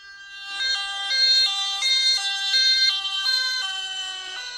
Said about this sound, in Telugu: సైరన్ వస్తుంది.